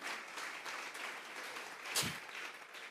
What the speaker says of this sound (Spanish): Le vamos a regalar una ofrenda de palmas al que viene.